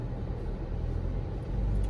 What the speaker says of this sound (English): this engine is very silent under idlings